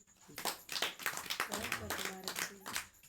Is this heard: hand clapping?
yes